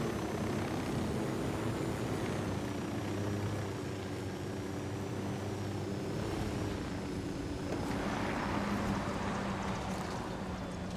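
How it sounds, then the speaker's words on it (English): A helicopter in the video game Ghost Recon Wildlands drones steadily with a broad engine and rotor wash that stays loud and continuous throughout, with no speech. "The rebels need supplies badly, and that chopper's got them."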